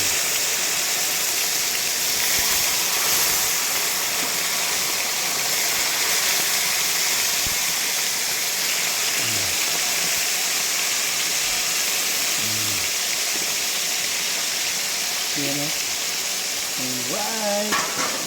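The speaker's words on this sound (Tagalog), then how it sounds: "So magprito na tayo ng isda mga kabatang." Fish frying in a pan for a simple provincial meal gives a steady, close sizzle and crackle throughout, with faint voice-like tones surfacing briefly in the second half.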